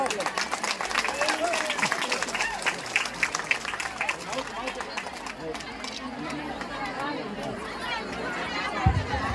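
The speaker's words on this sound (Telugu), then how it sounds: "గట్టిగా చప్పట్లు" A large crowd at a public meeting claps loudly and steadily, with murmuring voices and chatter mixed into the applause throughout.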